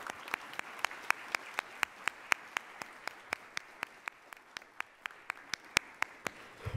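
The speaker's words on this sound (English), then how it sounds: "Can we give them one more round of applause?" An audience gives panelists another round of applause at a public discussion. The sound is faint and distant, with evenly spaced sharp claps in a steady rhythm, close to a single slow clapper.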